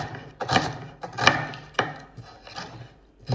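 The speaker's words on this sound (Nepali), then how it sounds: "प्याज टक्क काटौँ" An onion is chopped with a knife on a wooden board: about six or seven crisp, close chops in an uneven rhythm, with no talking.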